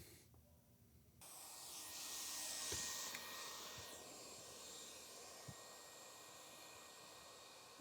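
A hot air welder fusing a TPO roofing seam at about 1022 degrees, a faint steady hiss of blown air with a few soft clicks, heard on its own.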